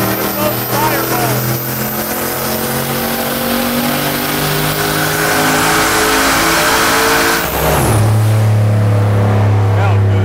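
Turbo V8 in a former grandpa's car screams through a dyno power run, a loud sustained rising roar with turbo whine that peaks, then drops sharply to a lower idle-like drone at the end.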